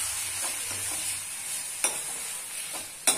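Spoon scraping and stirring salted masala in a pan for a dhaba-style potato and beans dish, a soft sizzle running throughout with a few sharp scrapes, the last one loudest near the end.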